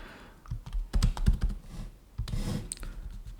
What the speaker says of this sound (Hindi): टाइपिंग नहीं हो रही आजकल